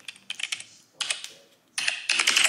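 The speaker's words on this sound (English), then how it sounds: "I'm going to use the typing sound effect." Rapid keyboard typing in several bursts of clicky keystrokes, with short pauses between flurries, close and fairly crisp.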